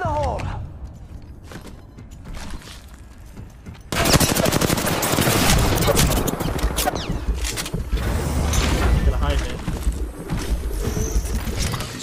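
Heavy gunfire in an Apex Legends match, rapid bursts of automatic shots that turn dense and continuous partway through, close and loud, with a player talking over it.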